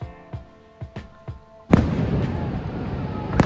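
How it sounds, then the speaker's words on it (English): Fireworks burst at night on a Niagara Falls trip: several sharp separate bangs, then one loud close blast that gives way to sustained crackling and rumbling fallout with a final pop. "At night, we again went back to enjoy the night lights and fireworks."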